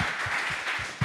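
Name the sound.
audience applause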